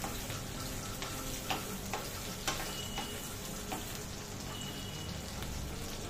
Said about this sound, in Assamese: ইয়াতে দিলোঁ কাচকলখিনি আমাৰ কাচকলখিনি দি ভালদৰে লৰাই দিছোঁ